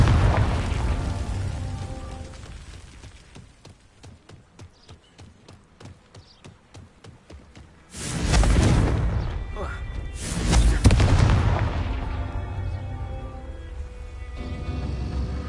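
Spell blasts from the Confringo curse in the Hogwarts Legacy game: a run of rapid light ticks gives way to two loud, rumbling bursts around the middle, with a voice present in the background.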